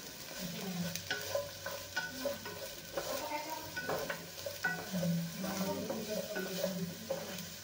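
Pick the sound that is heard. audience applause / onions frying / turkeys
onions frying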